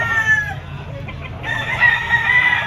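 A rooster crows amid a busy poultry stall at an open-air pet market, where stags and hens are on sale; the crow rings out clearly over steady crowd murmur and background market noise.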